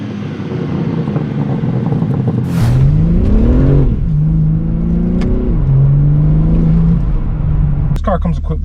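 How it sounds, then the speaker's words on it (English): A 2022 BMW M3 Competition G80 with a 450-horsepower engine pulls away from inside the cabin, its loud engine rising through revs in several upshifts with a steady close drone and a brief click at the end. "Let's hop inside the car and take it for a drive."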